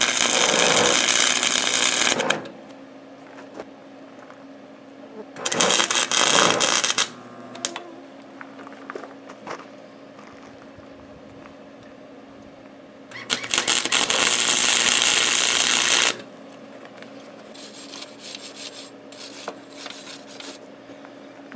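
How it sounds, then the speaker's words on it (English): Tack welding on a plow: three loud bursts of harsh, crackling buzz, about two to three seconds each, separated by quieter stretches of low hum and faint scraping, close by. "I'm going to gear up the welder, and I'm going to try and put a couple of spots on that"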